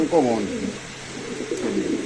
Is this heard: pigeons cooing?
yes